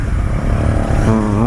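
Royal Enfield Interceptor 650 motorcycle engine with excess free play in the throttle, running with a loud, close, throbbing exhaust note that climbs as the throttle is opened, under a man's speech.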